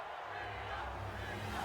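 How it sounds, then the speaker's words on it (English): A wrestling arena crowd chants for Rhea during a Women's Championship match, a broad steady roar of many voices at a distance with no distinct break. "The crowd are chanting Rhea at the moment"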